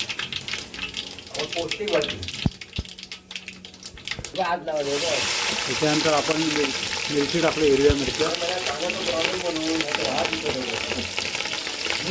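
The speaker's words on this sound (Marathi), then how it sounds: "आपण जिरे टाकलेत मोहरी मोहरी टाकले जिरे" Cumin and mustard seeds sizzle in hot oil in a village kitchen, a loud crackling hiss that breaks out sharply midway and carries on steadily, with someone talking over it.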